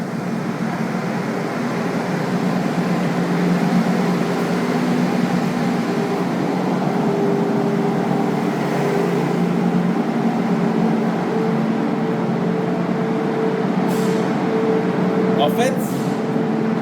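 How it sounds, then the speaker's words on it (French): Heavy trucks idle and start up around a parked electric camper van, a steady dense rumble of engines filling the space with a continuous low drone and a brief higher whine near the end. "il y a un peu de bruit parce qu'on est au milieu des camions qui sont en train de démarrer"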